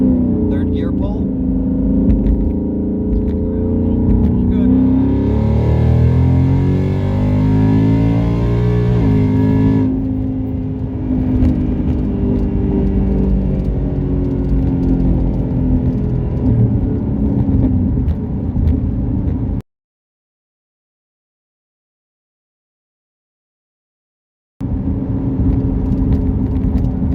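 A 2019 Ford Mustang GT running on E85 pulls hard in third gear, its engine note climbing steadily in a loud, close, rising roar inside the car, broken by a few seconds of silence before the drone returns.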